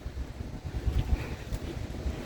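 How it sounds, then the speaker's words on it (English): A cool wind blows outdoors on a bright day in a cemetery. It sounds as a steady, loud, low rumble of gusts buffeting the microphone, with no voices. "there's a wind, but it's a cool wind."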